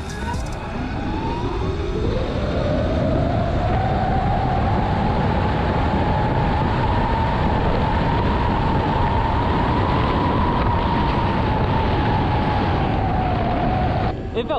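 A 72V Sur Ron electric dirt bike with an Emoto Bros controller and Lightspeed 72-volt 32 amp-hour battery accelerates from 0 to 60 mph, its motor whine rising in pitch and holding steady amid loud wind rush for about fourteen seconds.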